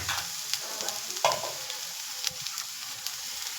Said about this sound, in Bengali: ভেজিটেবলগুলো মোটামুটি আমার হালকা ভাজা হয়ে গেছে, এবার আমি এর মধ্যে নুডলসটা অ্যাড করে নেব।